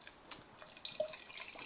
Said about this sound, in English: That's a pretty good pour.